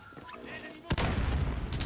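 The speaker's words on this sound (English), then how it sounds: "Someone's shooting nearby." Gunfire in a Call of Duty: Modern Warfare (2019) multiplayer match, with a sudden loud boom followed by a rumbling burst of shots, heard over game audio and speech.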